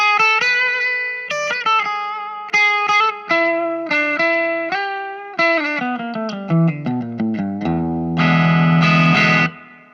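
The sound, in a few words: electric guitar through amp with reverb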